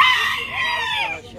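A small-breed rooster at a bird market in Muscat, Oman crows loudly and close by, one long drawn-out cock-a-doodle-doo that trails off at the end.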